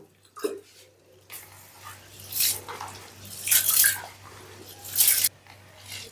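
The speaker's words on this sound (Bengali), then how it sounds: "এবারে অল্প অল্প জল দিয়ে চালটাকে বেশ ভালো করে ধুয়ে নেব" Basmati rice being washed in a bowl with a little water: a few bursts of sloshing, swishing water with wet squishing between quieter pauses, close by and without speech.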